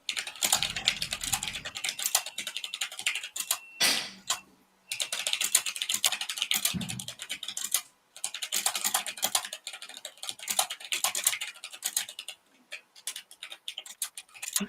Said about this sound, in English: Who's typing really fast?